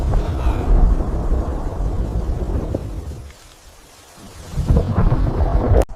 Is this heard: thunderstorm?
yes